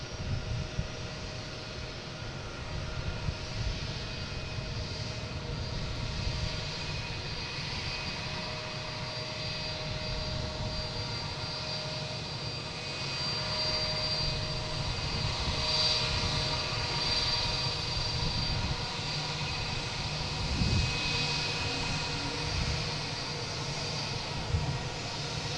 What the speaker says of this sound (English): we get United taking off